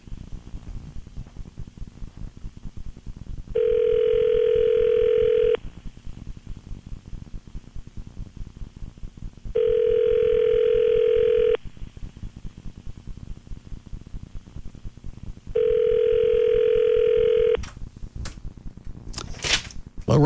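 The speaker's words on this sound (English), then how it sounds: "All right, I've dialed the right number this time." Three long, steady telephone tones, each about two seconds, sound over a hissy radio-studio line, separated by quiet gaps, with a few clicks at the end.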